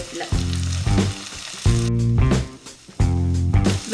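Onion, green chilli, garlic and curry leaves hitting hot oil for a drumstick masala, giving a loud, close sizzle broken by several sharp scraping stirs in a repeating rhythm, no talking.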